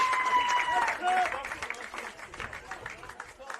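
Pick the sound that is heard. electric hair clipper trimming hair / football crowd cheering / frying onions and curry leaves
football crowd cheering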